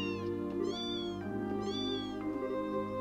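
A cat in the video game Trails in the Sky SC meows twice in quick succession, clear rising-falling cries over a steady soft game music background, no talking.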